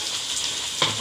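Tomatoes fry in hot oil after reddened onions for dum biryani, giving a steady close hiss of sizzling with one brief stir or clatter near the end.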